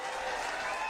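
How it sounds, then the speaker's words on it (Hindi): Applause from a crowd at a political rally in Pathankot, Punjab, a brief, steady wash of clapping at moderate level. "एक बारी होर जोरदार तालियां मारो जी"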